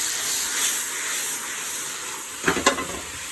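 Peas and broccolini sizzle steadily in a hot pan, a continuous bright frying hiss with a few louder crackling bursts near the end as the vegetables are stirred or tossed.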